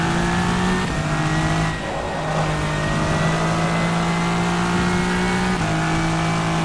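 A Le Mans LMD Hypercar in rFactor 2, its engine droning steadily at high revs with sharp gear-change shifts in pitch, loud and close throughout with no talk.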